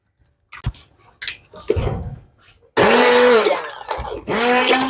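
A blender whirs loudly, mixing melon and milk for a shake, starting after a few seconds of kitchen clatter and bumps, then running steadily with a brief dip before surging again.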